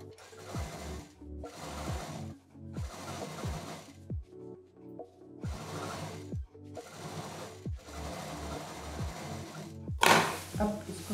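A sewing machine stitches a long fabric piece for a scrap-cloth home decor item, running in repeated whirring bursts of a second or so with short pauses, then a brief rustle at the end.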